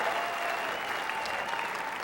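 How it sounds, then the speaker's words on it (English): Audience applause at a Fort Wayne celebrity dance show: steady, dense clapping from a large crowd, sustained and even from start to finish. "How about another round of applause for our last couple of the evening?"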